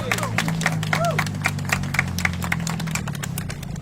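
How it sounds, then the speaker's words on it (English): Crowd at an outdoor candlelight vigil for nurses claps steadily, scattered individual claps standing out over a low steady hum, with a voice or two rising briefly beneath the clapping. "give her a big round of applause"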